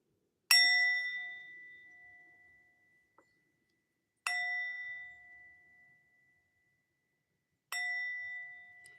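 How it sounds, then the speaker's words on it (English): A bell struck three times at even intervals, each bright ringing strike ringing out clearly and fading slowly in a quiet room. "Let me ring the bell and clear the energy."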